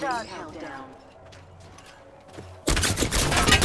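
Enemy gunfire in a shooter game breaks out abruptly as a loud, dense burst near the end, after a stretch of quieter game sounds and someone talking.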